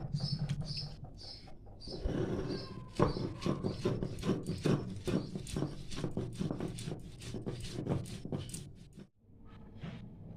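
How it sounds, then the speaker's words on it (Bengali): Poppy seeds and four chillies ground on a flat grinding stone, a steady rhythmic scraping and rubbing of stone on stone, repeated strokes close to the microphone, with a brief pause near the end. "আমি সিলে পোস্ত আর এখানে চারখানা লঙ্কা নিয়ে নিয়েছি এবার আমি বেটে দেখাবো"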